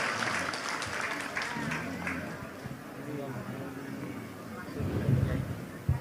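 An audience at an Indonesian religious gathering applauds as an elderly kiai arrives as a guest, a steady wash of clapping that swells near the end, with voices talking over it.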